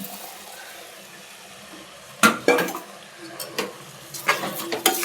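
Rice tips into a pan of tomato rice base, then a spoon stirs it with scraping clinks against the metal over a low sizzle, close by.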